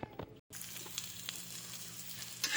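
Garlic and onion sautéing in a pan for beef steak: a dense, steady sizzle that starts after a brief moment of silence and holds loud and close to the end, with no voices.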